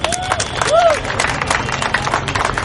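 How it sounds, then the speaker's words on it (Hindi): Loud, sustained applause and crowd noise from an audience honouring Ritika at a Trinayani event with performers with disabilities, with a couple of brief squealing tones rising over the dense clapping. "चाहूंगा कि रितिका के लिए जोरदार तालियां हो जाएं।"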